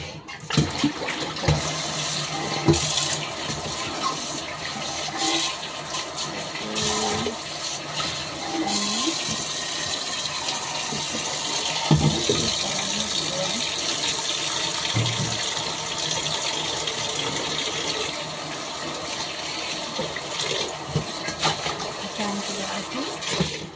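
Tap water gushes steadily while the water for sea cucumbers is being changed, a continuous, fairly loud splashing stream with no pauses from start to end.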